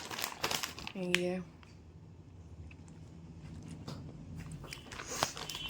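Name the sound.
eating a snack from a crinkly packet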